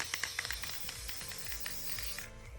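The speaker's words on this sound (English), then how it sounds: "Glitter spray!" A short hissing aerosol glitter spray, sprayed in a few quick bursts close by onto a painting, with faint rattling between them.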